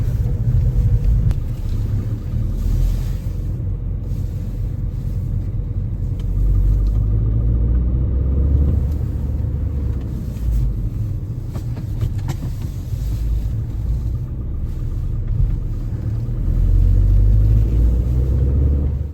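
Heard from inside the cabin, a car drives along the road with a steady, loud, low engine and tyre rumble. The drone holds throughout with gentle swells, and no one speaks.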